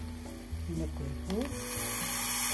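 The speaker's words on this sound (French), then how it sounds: "On va les laisser bien bouillir et après on les passera dans une passoire" Shrimp shells bubble in salted water in a saucepan, a steady seething boil that grows louder toward the end, with brief vocal sounds over it at first.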